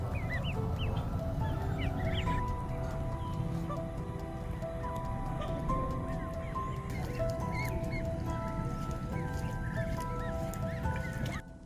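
Canada geese honk repeatedly, with many overlapping calls from a flock at moderate distance, continuous and steady throughout with no speech.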